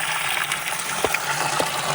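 Fresh water gushes and splashes steadily as it is poured out for farm animals on a snowy day, loud and close with a few sharp drips and spatters.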